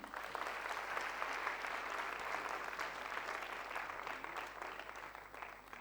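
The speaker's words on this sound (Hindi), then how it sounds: "बेहतरीन उद्बोधन के लिए सबसे पहले ज्ञानेंद्र जी के लिए तालियां" A large audience applauds steadily, dense clapping sustained at an even level for several seconds with no voices on top.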